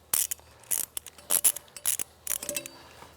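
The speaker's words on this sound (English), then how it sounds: "And use a 6-point socket if you got it." A ratchet with a 6-point socket clicks in quick bursts on a Yamaha snowmobile exhaust, with short clusters of sharp metallic ticks separated by pauses, close and fairly quiet.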